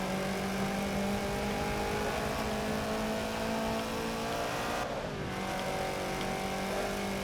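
Racing car engine in Forza Motorsport 7 holds a steady, loud drone with high whine and harmonics, dipping briefly mid-run as if shifting or braking into a tight turn before resuming, with no talk.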